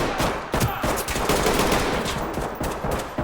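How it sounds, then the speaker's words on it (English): Dense gunfire in the tactical police shooter Ready or Not, sustained loud bursts of automatic and rapid shots filling the whole stretch without talk. "I shot him in the hands."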